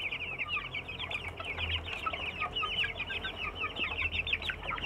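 Three-to-four-month-old kampung chickens (KUB and Joper) cluck rapidly as they eagerly peck at mixed feed, a busy overlapping chatter from several birds close by over a low background rumble.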